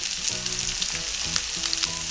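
Onions sizzle loudly in hot oil in a pan, a dense close hiss with a few light stirring knocks and faint background tones, no one speaking.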